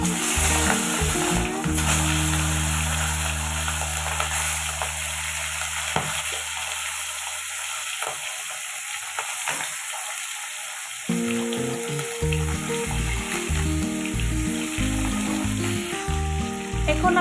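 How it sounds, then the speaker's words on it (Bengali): Fish heads coated in salt and turmeric fry in hot oil in a pan, a loud steady sizzle with bubbling and occasional stirring clatter, briefly quieting before the crackle returns strong. "এখন আগে থেকে নুন হলুদ মেখে রাখা মাছের মাথাগুলো ভেজে নেব।"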